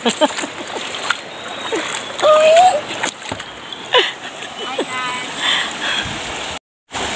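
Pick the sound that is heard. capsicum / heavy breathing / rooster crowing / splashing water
splashing water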